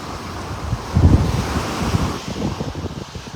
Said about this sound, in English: Sit at the beach and watch the tide roll in and roll away again.